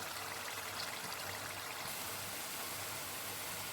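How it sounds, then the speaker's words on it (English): Carrots fry in a pan with steady broadband sizzling, a constant hiss that holds at an even level from start to finish, with no talk over it. "So I'll let this fry very well till the water from the carrots dries up."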